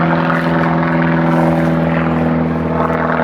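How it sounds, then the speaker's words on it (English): Loud, steady droning of propeller aircraft overhead, a constant heavy engine hum filling the whole stretch with no voices. "I'm going to shout over the top of the noise of the aeroplanes"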